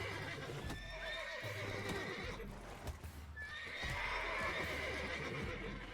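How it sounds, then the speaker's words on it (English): Spooked horses in The Witcher 3 whinny and neigh repeatedly inside a stable, shrill calls rising over a steady low rumble and clopping hooves, loud and close with no talking. "Well, I just spooked all the horses."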